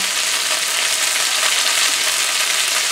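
Strip steaks sear in a hot pan, giving a loud, dense, unbroken sizzle that holds steady and close for a few seconds, with no voices.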